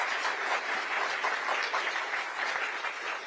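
An audience at St. Anselm College in New Hampshire breaks into sustained applause before a political speech by former Vice President Mike Pence, a dense, steady wash of clapping from many hands.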